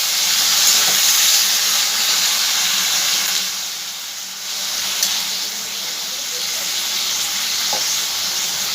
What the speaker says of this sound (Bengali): এবার এর মধ্যে সেদ্ধ করা শিমগুলো সব দিয়ে দেব। ভালো করে একটু নাড়ানাড়ি করে নেব।